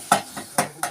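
A spoon scrapes and knocks against a cooking pot while stirring and crushing softened tomatoes and onions, giving four short, close taps in quick succession.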